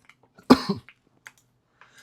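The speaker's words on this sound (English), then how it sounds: "Sorry about my cough." A single close cough with a short throaty follow-up, then faint clicks and near silence.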